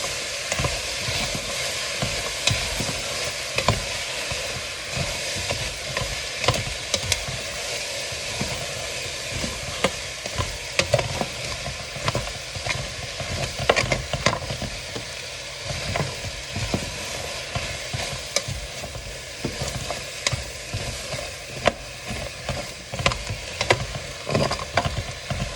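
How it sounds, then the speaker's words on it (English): Onions being stirred through caramel in a pan for French onion soup, with a steady broadband sizzle and frying hiss running throughout, punctuated by irregular scraping stirs of a utensil, close and moderately loud with no talking. "until they're evenly coated in this caramel. And you're just gonna keep stirring."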